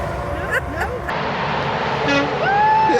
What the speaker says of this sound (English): We're trying to get truckers to blow their horn.